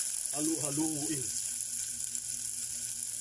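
Garlic and onion sautéing in a pan for chicken pochero, a steady soft sizzle throughout, with a brief voice at the start.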